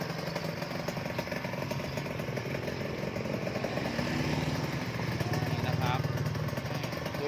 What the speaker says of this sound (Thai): ฟังเสียงคงเสียงเครื่องครับ ไม่มีในดังเลยนะครับ